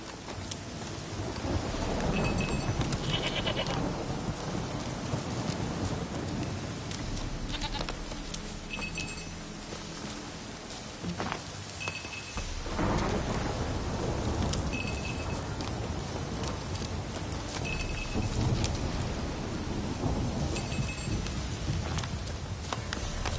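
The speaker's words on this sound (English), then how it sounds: "Where the hell did you go? A storm, damn it." Thunderstorm in The Witcher 3 video game: steady heavy rain hissing throughout, with deep rolling thunder rumbles and a few sharper bursts, loud and enveloping, no talking over it.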